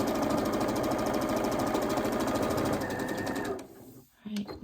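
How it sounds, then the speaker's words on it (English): Sewing machine running a quilt block seam, close, fast and steady stitching that stops near the end, followed by a brief handling clatter. "I'm just going to sew up one side"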